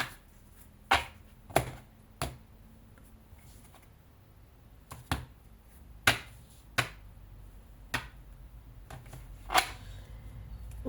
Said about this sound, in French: Je vais remélanger les cartes et je vais faire une coupe